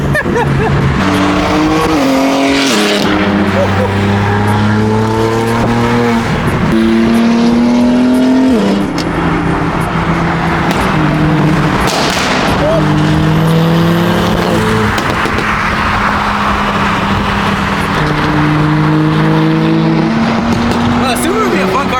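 A BMW G80 M3 engine revs loud and close at a cars and coffee meet, its rising and falling tones repeating in sharp bursts with brief crackles, while people talk over it.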